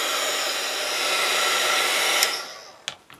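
A hair dryer blows steadily and close while drying a piece of artwork, then switches off, leaving a couple of faint clicks.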